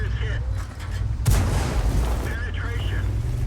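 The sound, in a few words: tank cannon rounds firing in tank video game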